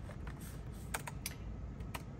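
Typing on a computer keyboard while entering product details for a small sublimation printing business: a short run of quiet, irregular key clicks over faint background hiss, with no talking.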